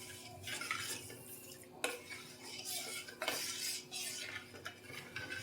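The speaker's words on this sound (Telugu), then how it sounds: "ఇలా పంచదార యాడ్ చేసేసి బాగా కలపాలండి, కలుపుతూ ఉండాలి." A spoon stirs sugar into a coconut pudding mixture in a metal pot, with quiet, soft scraping and a few light clinks in a repeating, unhurried rhythm.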